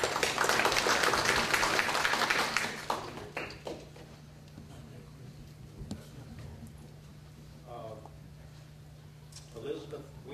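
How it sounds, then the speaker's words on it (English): Audience at a public forum gives a round of applause, a loud burst of clapping for a few seconds that quickly fades, followed by quiet room noise and a brief voice. "Let's give him a round of applause."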